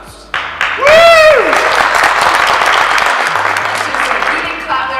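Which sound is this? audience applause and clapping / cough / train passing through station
audience applause and clapping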